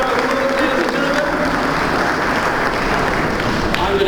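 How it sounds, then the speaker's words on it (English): Sustained audience applause at the opening ceremony of the Cape Town International Stamp Exhibition, a dense continuous clatter of clapping with voices audible underneath. "Please give him a warm round of applause, ladies and gentlemen"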